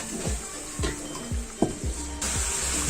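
Masala fries in a pan while a spoon stirs it, with a constant sizzle under repeated scraping strokes at a steady rhythm, close and fairly loud.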